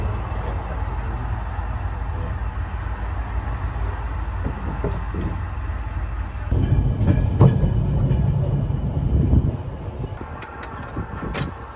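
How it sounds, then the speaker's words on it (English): A small heritage railway train rolls along with a low rumble and rattling carriage, growing louder and clunkier partway through as the wheels knock over the track, heard close from on board. "they persuaded me to go on a little train ride, which I really enjoyed"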